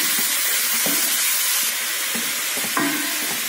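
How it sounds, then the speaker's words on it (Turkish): Lamb meat sautéing in butter gives off a steady, close sizzle and hiss in a pan, with a few soft scraping stirs breaking through. "Etlerimi sürekli kavuruyorum böyle karıştırarak"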